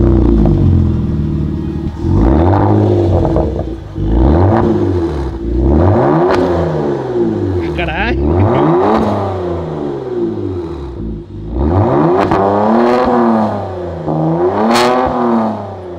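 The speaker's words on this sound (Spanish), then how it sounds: "Después del escape, escucha cómo suena este." Car engine with a modified exhaust revs repeatedly, rising and falling in loud, close swells with a raspy rumble and short pauses between pulls.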